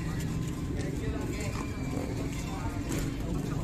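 Horses arriving at the Tolo horse market, with faint hoof clip-clops amid busy market bustle and passing engine noise, under constant talking.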